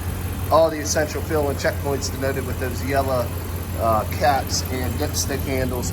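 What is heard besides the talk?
Ram 1500 5.7 liter HEMI engine idling quietly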